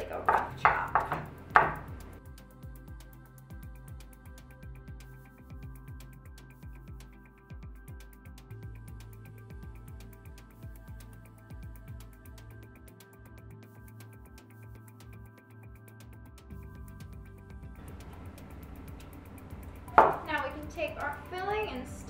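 Rough chopping of filling ingredients for stuffed baked apples, a run of quick knife taps on a board, with a voice talking briefly at the start and end and kitchen quiet between.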